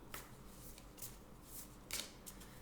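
Tarot cards being shuffled and drawn during a weekly reading, soft papery riffles and flicks in several brief bursts, fairly quiet and close, with no talking.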